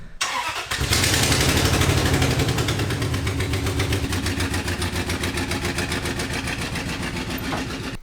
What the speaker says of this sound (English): this exhaust leak keeps getting worse